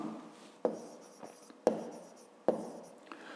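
Pen writing in a notebook during a fifth-grade maths exercise, close soft scratching strokes broken by three sharp taps, quiet and without talk.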